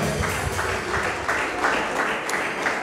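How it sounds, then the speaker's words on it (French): A church congregation at a Sunday service claps together in a steady, quick rhythm, with a loud, continuous wash of hands and faint voices mixed in. "Alléluia, acclamons très fort le Seigneur"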